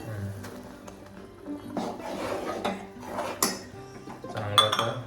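Rice flour batter for bhirdi being stirred hard in a pot on a lowered gas flame, giving irregular scraping and knocking of spoon against metal, moderately close with a few sharper clanks.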